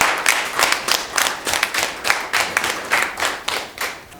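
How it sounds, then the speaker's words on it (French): Steady hand clapping from an audience at a school leadership excellence ceremony, a fairly close, rhythmic group applause that holds an even pace throughout without any talking. "Je voudrais que vous puissiez acclamer."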